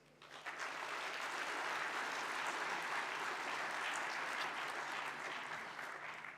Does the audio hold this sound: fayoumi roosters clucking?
no